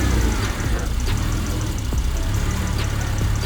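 A V6 engine in a Toyota MR2 runs rough and uneven just after starting, a steady close mid-range rumble with irregular knocks throughout.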